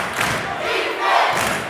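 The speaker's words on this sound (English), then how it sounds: "Crowd here at the Sports Arena getting behind this Georgia State team." Basketball crowd at the Sports Arena roaring behind Georgia State against Troy, a loud, dense wash of cheering and shouting that swells and dips briefly.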